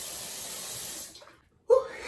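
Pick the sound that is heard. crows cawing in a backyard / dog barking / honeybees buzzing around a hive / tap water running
tap water running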